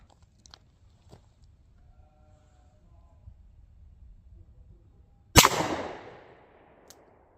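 A single sharp, loud shot from an S&W 637 Airweight .38 Special snub nose revolver firing 125-grain rounds over a chronograph cracks out after quiet handling noises, with a brief ringing decay and a faint click afterward.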